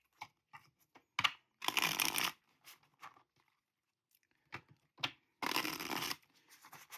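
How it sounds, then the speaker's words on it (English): Tarot cards are shuffled by hand in short crisp bursts of riffling and slapping, separated by quiet gaps, close and fairly soft with no voice over them. "While I'm shuffling"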